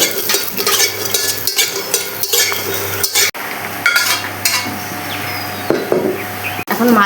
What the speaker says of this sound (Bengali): এখন আমি অল্প তেল দিয়ে দিচ্ছি বড়িটা ভাজার জন্য